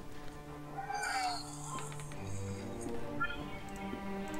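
Cat meows in the adventure game The Last Door, a couple of rising, wavering cries standing out over steady game music and ambience.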